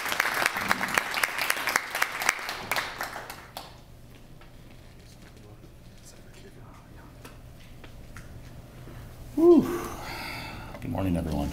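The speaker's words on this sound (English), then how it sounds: "give him a round of applause" Audience applause fills an awards ceremony hall, a dense burst of clapping that fades out after a few seconds into quiet room tone, with a brief gasp or murmur near the end.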